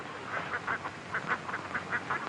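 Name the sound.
ducks quacking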